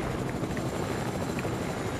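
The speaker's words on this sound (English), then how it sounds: "Well, this is a chopper." Steady helicopter rotor drone and engine roar in a flying video game, continuous and fairly loud throughout with no talking over it.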